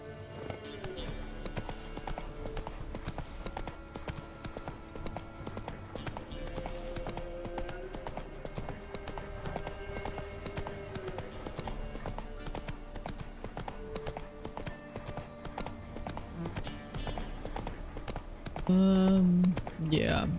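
Roach, the horse in The Witcher 3, galloping with steady rhythmic clip-clop hoofbeats throughout, set under game music and ambience, with a short snort or whinny near the end; someone talks over it at times.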